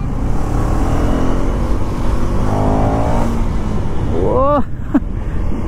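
A KTM Duke 390 Gen 3 motorcycle engine runs close and loud with a steady, unbroken drone, and a few quick rising tones are heard near the end.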